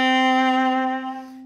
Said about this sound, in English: Without the trill, it sounds like this.